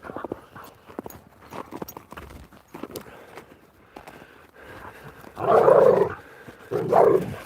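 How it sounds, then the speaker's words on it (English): Five dogs walked together through snow in British Columbia, with a loose run of soft, uneven footfalls and crunches, then two louder, thicker bursts of trampling near the end; no talking. "I am walking 5 dogs in beautiful British Columbia."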